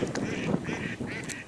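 Three short bursts of duck quacking in quick succession, fairly close, over steady outdoor background noise on a canal heard from a kayak.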